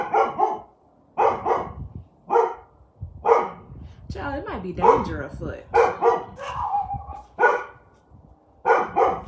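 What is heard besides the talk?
dogs barking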